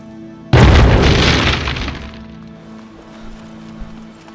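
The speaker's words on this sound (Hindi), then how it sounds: "ग्रेनेड!" A grenade blows up in a Hindi-dubbed thriller film, one sudden loud boom with a crashing burst that decays over about a second and a half into a low lingering rumble.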